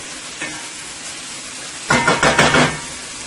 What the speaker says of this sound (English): So I'm going to let that continue to fry